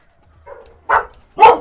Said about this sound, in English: Oh, my dogs. As soon as they hear somebody outside, they both go nuts.